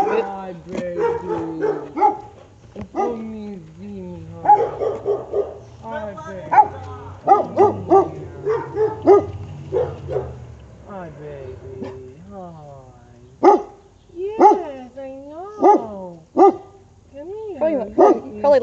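Dogs bark, yip and whimper in irregular bursts, fairly close and clear, with pitched yelps scattered through the stretch and quiet gaps between.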